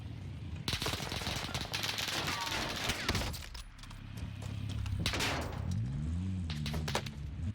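Rapid bursts of gunfire in Call of Duty: Warzone Pacific, loud and close, with dense volleys early on and sporadic shots later over a low engine-like hum.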